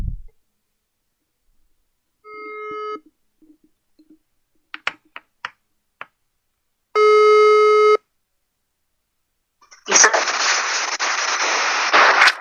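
A telephone call's ringing tone sounds as a steady electronic burst lasting about a second, followed by short clicks and a loud tone, then a longer noisy crackle of line noise; no one speaks over it.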